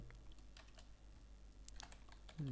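A job title being typed on a computer keyboard makes quick, light key clicks in short irregular bursts, faint and close, with no talking.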